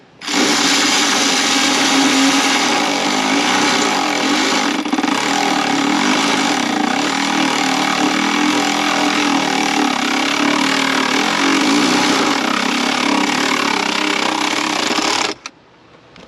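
A power tool whirs loud and continuous for about fifteen seconds while bolts are tightened on a 2014 Jeep Grand Cherokee 5.7 Hemi, then stops abruptly.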